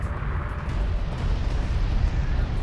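Artillery shells exploding in the Homeworld: Deserts of Kharak real-time strategy game, a dense continuous rumble of deep blasts rolling together at steady loudness for a couple of seconds, with no voices.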